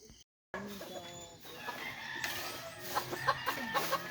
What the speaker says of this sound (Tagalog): yan na yung tilaok ng ating pangalawang huli ngayong season